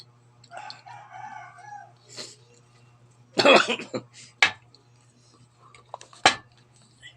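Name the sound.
cough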